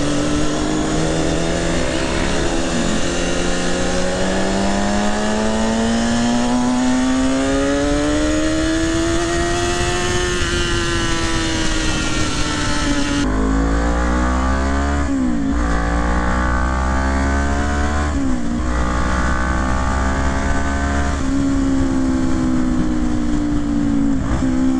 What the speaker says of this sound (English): Driving through this tunnel, obviously because of tunnel reasons, so you hear that nice exhaust echo.